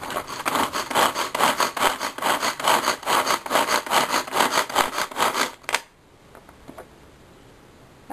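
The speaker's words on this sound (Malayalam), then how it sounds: "നമുക്ക് നന്നായി ചെറുതായിട്ട് ഇതിൽ കട്ടിംഗ് ബോർഡിൽ തന്നെ അരിഞ്ഞെടുക്കാം." Vegetables being finely chopped with a knife on a cutting board for potato salad, a fast steady run of rhythmic cutting strokes that stops abruptly, leaving quiet room tone.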